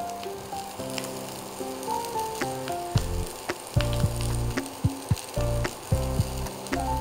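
Whole cardamom and cinnamon sizzling in hot ghee for a cauliflower korma, a steady crackling fry with sharp pops, heard alongside sustained musical tones.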